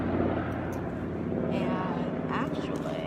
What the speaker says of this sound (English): There's a plane or a helicopter going overhead